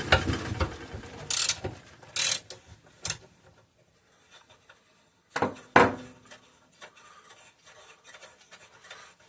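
A ratchet socket wrench with a shallow well socket loosening bolts on an antique McCulloch generator that sat in a flooded basement, giving short bursts of ratcheting clicks separated by quiet pauses, close by.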